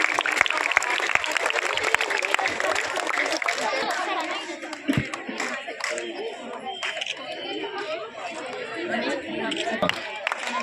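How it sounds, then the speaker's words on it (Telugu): Crowd at a school sports-meet closing ceremony in Veldurthi mandal applauds loudly in the first few seconds, with dense clapping that thins into chatter, scattered claps and general crowd noise. "గట్టిగా చప్పట్లు."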